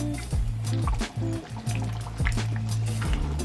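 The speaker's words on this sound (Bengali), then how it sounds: "মিক্সির মশলাটা দিয়ে দেওয়ার পরে ধুয়ে রাখা জলটা আমি দিয়ে দিলাম।" Washing water from rinsing the spice grinder is poured into a pan of simmering desi chicken curry, giving a continuous close pouring and bubbling sound with brief gaps and no talk.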